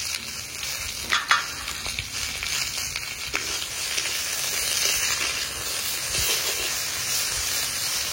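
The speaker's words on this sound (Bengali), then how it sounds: "তো এখন বাকলাটা আমি আগে ভেজে নেব।" Ridge gourd peel frying in a pan with oil gives a steady soft sizzle and hiss, with a few faint stirring clinks, moderate and close, no talk.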